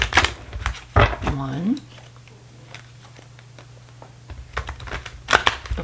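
Brisk riffling of tarot cards being shuffled in a couple of quick bursts, close by, with a short spoken word between the shuffles.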